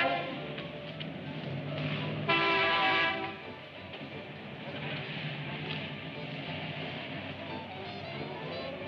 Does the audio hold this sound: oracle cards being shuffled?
no